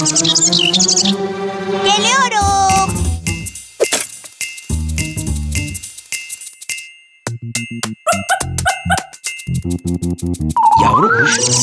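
A cartoon baby bird chirps in the Pocoyo animated series, a string of high, bright tweets and pitch-bending calls mixed with tinkling, plinking musical notes and short bursts of other cartoon sound effects.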